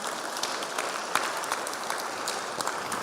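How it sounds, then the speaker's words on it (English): Audience applause for the St. Clair County Republicans at a governor candidates' forum; a steady wash of clapping with a few sharper individual claps standing out. "A round of applause for the St. Clair County Republicans."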